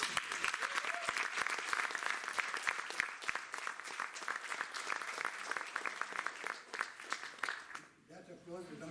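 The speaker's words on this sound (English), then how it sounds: "That applause is not for me." A lecture-hall audience at an award event bursts into sustained applause, dense clapping holding for about eight seconds before fading out, with a voice briefly heard as it dies down.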